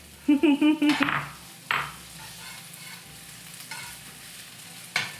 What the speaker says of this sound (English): We're gonna fry them until the shallots are really soft and the garlic is slightly golden